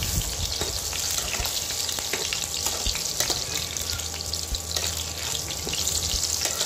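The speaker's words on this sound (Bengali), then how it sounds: "এবার ডুমো ডুমো করে কেটে রাখা আলুগুলো আমি" Steady, crackling sizzle of diced potatoes frying in hot oil, with occasional sharper pops and light scraping throughout.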